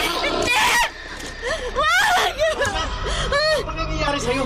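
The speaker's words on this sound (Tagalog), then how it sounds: "Malayo pa ako, naririnig ko nang sumisigaw ka." A woman screams and wails in distress, her high voice rising and breaking repeatedly over about four seconds, close and loud, mixed with frantic vocal sounds.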